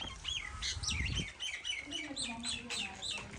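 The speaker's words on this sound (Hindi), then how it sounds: "परिंदों की भी आवाज़ें सुनने को मिल रही हैं।" Several small birds chirp and tweet repeatedly in a village setting, their calls fairly close, with a soft rustle and a low voice-like hum underneath.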